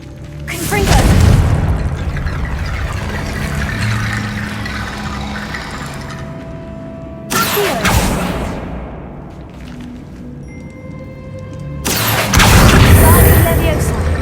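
Confringo blasting spells explode in Hogwarts Legacy, three loud booming blasts spaced several seconds apart, each followed by a rumbling decay.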